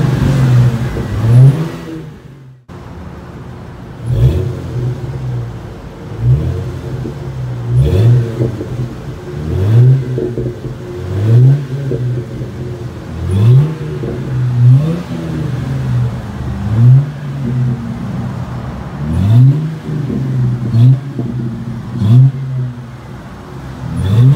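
A 2000 Ford Mustang V6 with Flowmaster Super 44 true dual exhaust, X-pipe and K&N intake revs repeatedly in short, regular bursts, each rising in pitch with a deep, throaty exhaust rumble, loud and close throughout.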